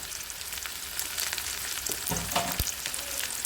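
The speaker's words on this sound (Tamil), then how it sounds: "எல்லாம் சேர்த்து நல்லா பார்த்து வணக்கிக்கலாம்" Onion, curry leaves, chilli and garlic sauté in a pan for manathakkali kai thokku. A steady, close sizzle runs throughout, with a short burst of stirring scrapes near the end.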